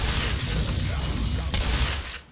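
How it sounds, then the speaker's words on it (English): A close-range shotgun blast fired at a basic zombie in the Black Mesa video game, a dense, loud and noisy burst that fills the short moment with a brief sharp crack near the end. "it's close range shotgun shot and you're just a basic zombie."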